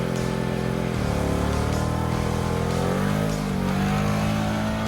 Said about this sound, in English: allows me to do a much longer, faster, higher RPM, straighter burnout